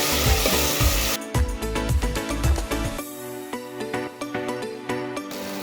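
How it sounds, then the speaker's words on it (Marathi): Tomato fries with onion in a pan, a steady close sizzle with repeated scraping stirs; the hiss drops partway through and then carries on more softly under clinking strokes. Nobody speaks. "आता त्याच्यात जाणार हा टोमॅटो. टोमॅटो पण छानपैकी फ्राय करून घ्यायचा."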